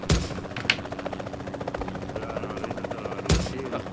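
A PUBG Mobile aircraft drones with a steady rotor-like thrum through the match, broken by sharp thuds near the start and end.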